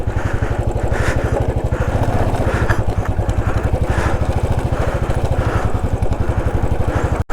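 A motorcycle engine, likely a Royal Enfield, runs steadily and loudly up close with a rapid, even thumping rhythm throughout, near a highway at the Nepal–India border crossing.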